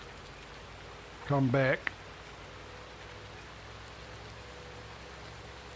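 Steady rain in Farming Simulator 19, a continuous even patter throughout, with a brief spoken phrase partway through.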